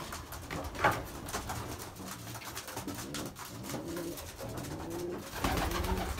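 Belgian racing pigeons, the breeding cocks, coo repeatedly inside a loft, with soft overlapping low calls and rustling close by throughout.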